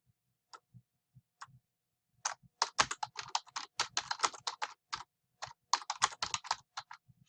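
Computer keyboard typing while entering a description for a Kahoot trivia quiz: a few isolated keystrokes, then dense bursts of rapid clicking with brief pauses, close and fairly quiet, no talk.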